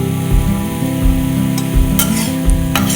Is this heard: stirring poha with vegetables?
yes